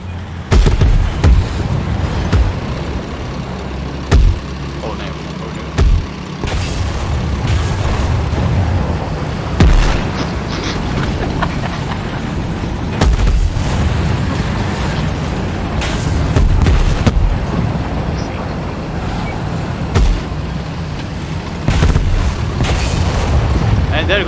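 Tank cannon shots in the War Thunder tank football mode, with heavy booms recurring irregularly over a constant rumbling engine and battle backdrop, while someone talks throughout.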